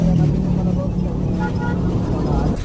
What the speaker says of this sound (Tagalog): napaka-traffic ng kalsada ngayon